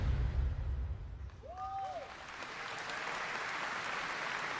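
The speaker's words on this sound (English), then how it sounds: "They're just clapping." An audience claps at a Black Ops 7 presentation, giving steady applause that carries on throughout, heard at a moderate distance with a short whistle-like tone near the middle.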